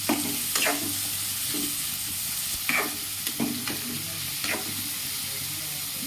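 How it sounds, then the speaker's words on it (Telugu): Thinly sliced onions fry in hot oil in a pan for an aloo kurma, giving a steady soft sizzle with a few louder stirring scrapes spaced through the stretch, close and with no talking. "సన్నగా ఉల్లిపాయ తరుచుకొని మనం ఆయిల్ వేసుకొని బాగా ఫ్రై చేసేసుకున్నాం."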